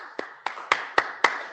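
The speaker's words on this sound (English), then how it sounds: "good loud clap for a demo" A few crisp hand claps ring out in an even rhythm, about five or six close, separate slaps in a quiet conference room at an IETF working group session, with no talking over them.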